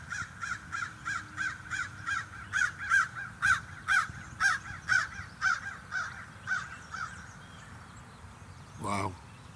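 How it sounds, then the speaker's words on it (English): A crow caws in a long, steady run of about fifteen evenly spaced calls, fairly close and clear, outdoors in Milwaukee. A brief different bird sound comes near the end over low background rumble. "Couldn't have the crow at a better time, huh, folks?"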